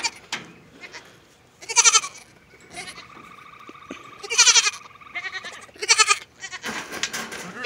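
Goats bleating repeatedly in a farm pen as a newborn kid joins the herd, several loud close calls overlapping with fainter bleats between, no talking.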